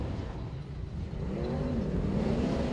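Race cars in a mini feature race, a dense roar of engines from a field of cars heard at a moderate distance, with revving that rises in pitch as the pack accelerates back underway.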